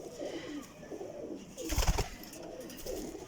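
Pigeons coo softly around a female flying pigeon offered for sale, low murmuring calls throughout with a brief louder flutter-like burst near the middle.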